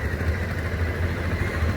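A Hero Passion Pro motorcycle engine by a national highway gives a steady, close, low rumble that holds even throughout with no speech over it.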